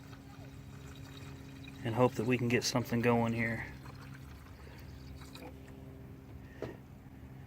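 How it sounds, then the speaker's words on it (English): Water poured into the cooling system of a Ford Mustang during a coolant flush, a brief gurgling pour for under two seconds, with someone speaking before and over it. "So I'm going to pour some more water into this"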